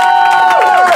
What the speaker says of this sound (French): un tonnerre d'applaudissements pour Cécile